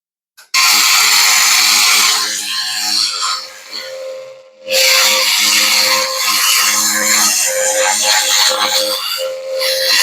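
Laser cleaning strips rust from a cast iron tea kettle, a loud, steady broadband hiss and buzz that runs almost without a break, dipping briefly near the middle before resuming at full strength.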